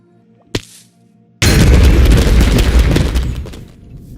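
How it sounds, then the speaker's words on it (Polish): After a short sharp pop, a loud video game explosion bursts in with a booming, crackling roar that gradually fades. "było taka eksplozja, miała być taka eksplozja"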